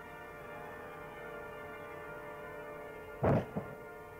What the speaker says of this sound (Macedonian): Гранатата експлодира во песокот и шрапнелите останаа во дното на јамата.